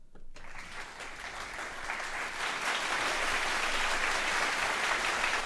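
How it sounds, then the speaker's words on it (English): A crowd applauds, the clapping starting suddenly and building to a dense, steady roar of many hands that continues throughout. "Let's have the clap sound effect."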